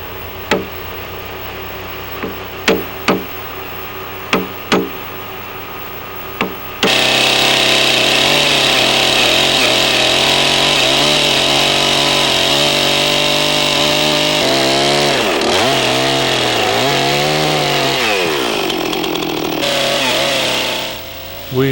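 A chainsaw cuts the top tenon of a log for a log cabin, first idling and blipping in short bursts, then running loud and steady at full throttle with pitch dips as it bites into the wood, before easing off near the end.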